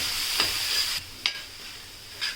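Chopped tomato stirred into frying onion and capsicum for masala pav, a continuous close sizzle broken by three distinct scraping strokes of the spatula against the pan, with no talking.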